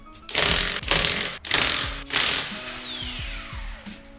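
Ratchet with a 21mm socket loosening a lug nut on a 2007-2012 Nissan Altima, giving four loud close bursts of rapid pawl clicking followed by fainter single clicks.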